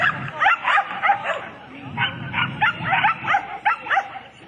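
A small dog yips and barks in quick repeated bursts while running alongside a young girl outdoors, close and loud, with a few whimpering tones between the barks.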